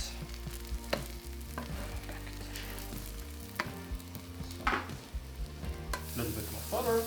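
Sourdough grilled cheese sandwiches sizzle steadily in a buttered pan, with a continuous frying hiss and occasional scraping and clinking as they are turned, close and loud without talk.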